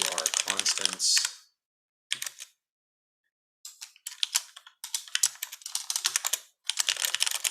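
Steady keyboard typing at close range during a physics lecture on Maxwell's equations, with dense bursts of keystrokes broken by short pauses; no talk over it.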